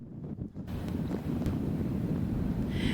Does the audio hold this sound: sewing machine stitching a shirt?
no